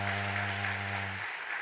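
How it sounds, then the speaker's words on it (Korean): Applause of welcome from a church congregation at a Sunday service, steady and broadband, over a sustained low organ-like tone that cuts off near the end. "우리 환영의 박수"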